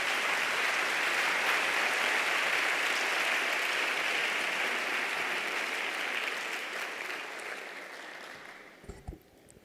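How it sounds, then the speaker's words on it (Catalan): An audience at a literary awards ceremony breaks into sustained applause, full and even for most of the stretch before tapering off, with a few isolated thumps and a closing clap at the end. "Un fort aplaudiment per ells."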